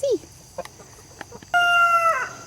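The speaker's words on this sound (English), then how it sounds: "He is our other rooster." A rooster crows loudly and close by, with a short call at the start and a long sustained crow later, while softer clucks from hens pop up in between; no talking.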